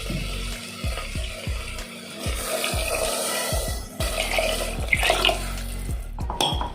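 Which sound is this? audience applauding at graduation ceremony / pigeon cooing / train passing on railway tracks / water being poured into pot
water being poured into pot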